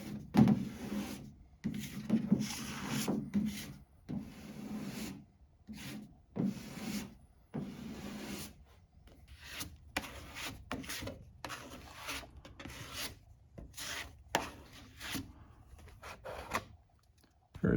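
Filler and primer on Porsche 914 bodywork being wet-sanded by hand, a close, steady series of rasping rubbing strokes in rhythmic back-and-forth bursts with short pauses between them.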